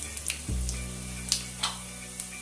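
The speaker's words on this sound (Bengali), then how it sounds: "এই তেলের মধ্যেই দিয়ে দেবো তেজপাতা একটা, শুকনো লঙ্কা একটা, আর কিছুটা গোটা জিরে" A bay leaf, a dried red chilli and whole cumin seeds hit hot oil in a pan for aloo dum, setting off a sudden, steady close sizzle with a few sharper crackles and pops, no voices.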